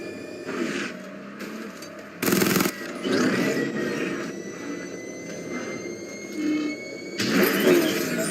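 The Batmobile's engine revs and growls in the video game Batman: Arkham Knight, mixed with sudden bursts of cannon-like blasts and gunfire, with steady mid-level game noise throughout.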